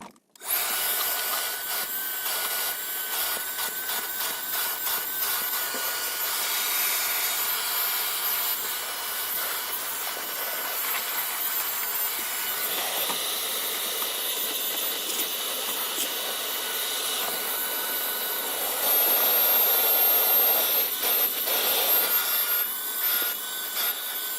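A Ryobi 3-gallon wet/dry vacuum cleans a car's front floorboard, a steady close hiss and roar running the whole time with shifting suction tones as the nozzle moves, and no talk.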